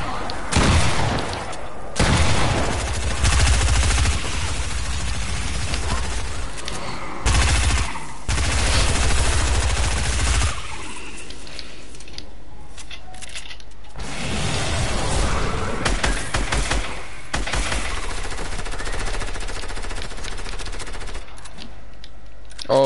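Shotgun gunfire in a video game, with loud, heavy blasts in clusters across the first half and scattered booms later, some with quieter stretches between them.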